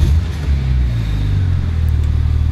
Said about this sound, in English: I'm going to start the car up so we can have a little bit of a listen